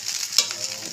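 Rice with ghee and egg stirred in a pan, a soft continuous sizzle broken by a single sharp scrape of the spatula, brief and fairly close.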